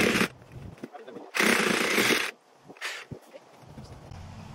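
Cutting a length of pipe for a cracked sewer line repair, with a loud rasping saw burst, a longer harsh cutting stretch, and a shorter final stroke, broken by quieter gaps.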